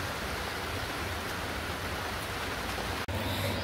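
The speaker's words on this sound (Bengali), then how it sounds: "আর সবে পড়ছে, শুরু হয়েছে বৃষ্টি ঝিরিঝিরি।" Light drizzling rain makes a steady soft hiss that stays even throughout, with one brief drop near the end and no voices.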